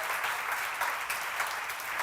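A congregation at a church seminar claps together in a steady, unbroken burst of applause, dense and close, with no voices standing out.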